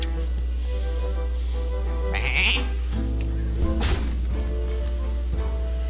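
Sheep bleat several times in the card game Hearthstone over a steady droning music bed, with a couple of thumps and synthetic game sound effects between the calls.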